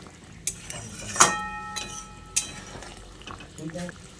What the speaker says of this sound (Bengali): তারপর আলুর সঙ্গে ভালো করে নেড়েচেড়ে মিশিয়ে নিচ্ছি